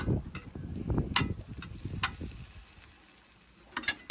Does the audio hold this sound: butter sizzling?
yes